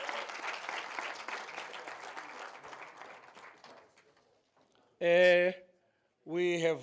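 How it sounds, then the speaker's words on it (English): Audience applause at a university health intelligence centre launch event, steady crowd clapping for several seconds that fades out, followed by brief speech afterward. "Let's give him a round of applause once more."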